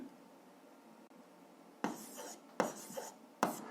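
A pen or chalk scratches out an algebra answer in short bursts: a quiet stretch, then three distinct scraping strokes close by, with no talking.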